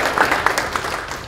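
Audience applause at a coaching event: a steady wash of many hands clapping at moderate volume, with individual claps popping through the crowd noise for its whole length.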